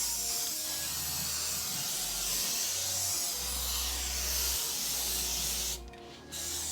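A steady, loud spray hiss from a coating being sprayed onto wood and trim for a car subwoofer box. It runs continuously with a low hum underneath and a brief dip near the end.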